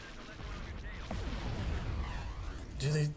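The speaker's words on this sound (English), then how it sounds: "Here come the missiles." Missiles strike ships in a Star Wars: Empire at War space battle near asteroids, a run of rumbling impacts and booms under overlapping game radio chatter, swelling to a louder hit near the end.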